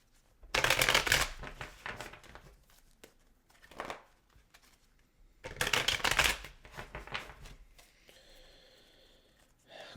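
A deck of tarot cards is shuffled close up in two quick riffling bursts, each trailing into a few lighter taps and slides, with quiet pauses in between and a soft rustle at the end.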